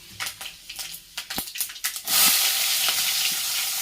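Mustard seeds thrown into hot oil for an okra tamarind curry: a quick run of sharp crackling pops that gives way to a steady, loud sizzle.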